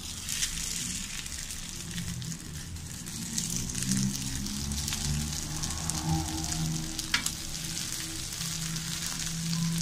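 Soy meat patties with cheese frying in a pan, a continuous crackling sizzle with scattered sharp pops, steady and fairly close.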